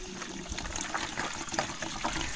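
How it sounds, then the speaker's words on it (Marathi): One litre of water pours into a pot holding neem leaves, a close, continuous splashing gush that fills the short moment on its own. "त्यात मी टाकते 1 लिटर पाणी."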